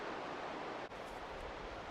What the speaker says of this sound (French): Les vagues sont petites, c'est pas avec ça que je ferai du surf